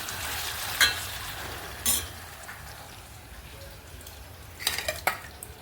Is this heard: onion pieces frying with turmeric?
yes